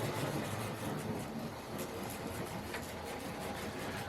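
Airfix 14XX model locomotive running slowly in reverse, a steady close mechanical whirr and hum with faint regular clicking, continuous at an even level throughout.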